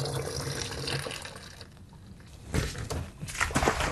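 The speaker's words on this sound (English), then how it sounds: "I'm gonna fill this up about 3/4 of the way with some lukewarm water." Lukewarm tap water pours into a bottle for a DIY yeast CO2 generator, a continuous close gushing that dips briefly before surging louder again.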